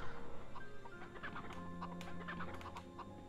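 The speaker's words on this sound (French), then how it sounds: "Mais les poulets, mangez ces graines" Chickens cluck repeatedly in the PlayStation game MediEvil, a steady run of short clucks and squawks over a low game background hum.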